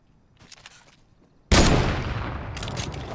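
A single loud sniper rifle shot in a video game hits abruptly after quiet rustling, followed by a ringing, roaring tail. The blast is close and dominant.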